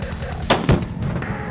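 A single sharp rifle shot cracks out during a deer hunt in Montana, a brief loud report with a quick echo, followed by faint outdoor background.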